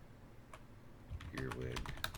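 Typing on a computer keyboard while entering words into a Scrabble program, a quiet scattered click early, then a denser burst of close key taps building over the last second.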